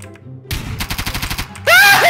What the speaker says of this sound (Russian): Стреляй автомат, успокойся